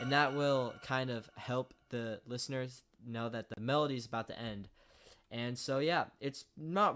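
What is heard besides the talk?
None of the usual background noises is heard.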